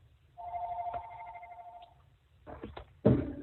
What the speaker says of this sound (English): heard a ringing which indicated that my time may be expired